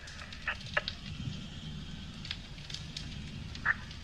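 A dog near a burning house gives a few short, sharp barks and yips at a moderate distance, spaced irregularly over a steady background hiss and rumble of the fire scene.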